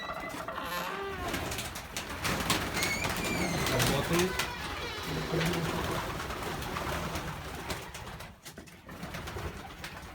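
Soft pigeon cooing and fluttering fill the background while someone speaks nearby; birds murmur continuously throughout.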